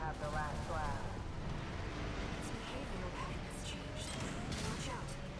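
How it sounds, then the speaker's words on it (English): Vertical missiles pound a chimney in the mech combat game Armored Core VI, a dense barrage of booming blasts and whooshing launches layered over a constant rumble of gunfire and engine noise. "Get some good shots in on the chimney with my vertical missiles"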